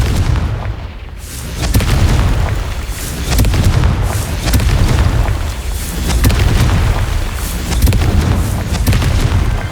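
Fiery Confringo spell blasts in the Hogwarts Legacy video game, loud booming explosions that roll on in repeated swells over a dense rumbling background, with no voice.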